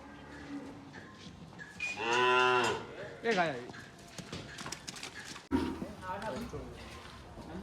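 Cows that have just calved moo loudly and close on a farm, with a long low call followed by a shorter one and hoof clopping, while people talk nearby.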